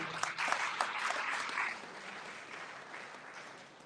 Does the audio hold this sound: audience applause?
yes